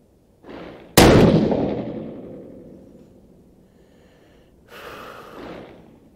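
A single loud 6.5 PRC rifle shot fired through a muzzle brake, a sharp close blast with a long decaying tail, preceded by a brief breath and followed seconds later by a softer rustle.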